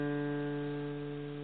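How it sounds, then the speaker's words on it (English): An open 4th string is plucked once on a guitar, a lone clear note that rings steadily and decays gently with nothing else around it. "Alright, so the next note is the 4th string open."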